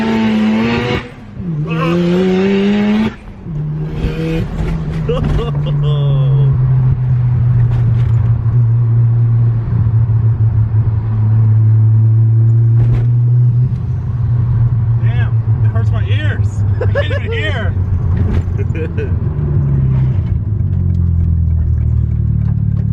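A Mazda RX7 rotary engine runs with an open wastegate, a loud close droning idle with revs rising and falling, while people talk and shout over it at the start and end.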